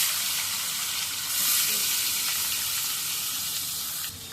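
Fish slide into hot oil seasoned with fenugreek seeds, setting off a loud, close, continuous sizzle that flares sharply partway through and then settles into steady frying before dropping off at the end.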